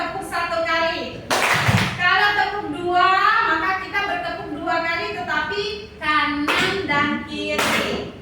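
An indoor ice-breaker at an Indonesian teachers' session: a group claps hands in short rhythmic bursts, with a leader talking throughout and the claps standing out in sharp clusters between phrases.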